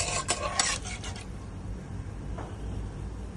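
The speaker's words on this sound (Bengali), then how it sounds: "আমি কুকারের ঢাকনাটা লাগিয়ে দিচ্ছি।" Metal clatter of a pressure cooker lid being fitted onto the pot after rice and water go in, a few sharp clinks in the first second, then quieter handling against low kitchen background.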